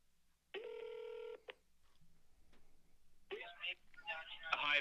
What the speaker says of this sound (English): You may hear some phone system prompts while I'm bringing them online